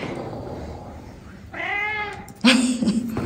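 A cat gives two drawn-out meows in quick succession, the second louder and harsher, heard close up over faint room noise.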